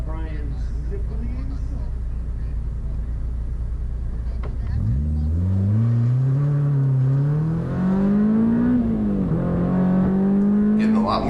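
A Honda S2000 built for CSP class runs an autocross course, its engine droning loud and close, then revving and rising in pitch as it accelerates and shifts through the slalom, with the wavering note continuing steadily.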